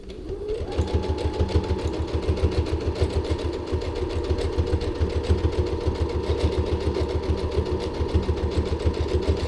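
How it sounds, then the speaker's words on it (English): A sewing machine runs steadily, stitching straight down the open edge of a folded fabric strap for a luggage tag, its rapid, even needle chatter continuous and close throughout. "you're just going to stitch right down that open edge to create the strap"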